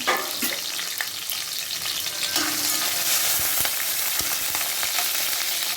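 Halved garlic cloves fry in hot oil with mustard seeds for a fish dish, with a steady close sizzle and crackle and a few stirring knocks, no voices.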